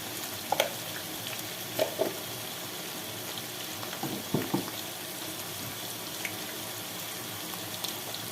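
Diced meat and onion with hot pepper fry in a pan, giving a soft, even sizzle at low volume with a few brief clinks and scrapes of stirring.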